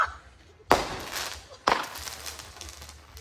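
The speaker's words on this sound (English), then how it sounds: "Oh, so it looks like it gives out fireworks and flares." Fireworks and flares pop in two sharp, loud bangs about a second apart, each leaving a short crackling tail that fades out.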